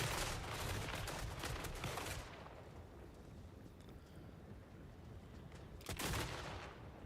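Massed musket volleys crackle in Total War: Warhammer 3, a dense, rolling burst of distant gunfire that fades into a lull before another ragged volley breaks out.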